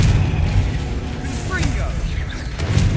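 Spell blasts from Confringo and Bombarda go off in a cavern fight in the Hogwarts Legacy video game. Dense, continuous combat noise carries booming impacts and whooshing bursts over a steady low rumble, with a game voice calling out between them.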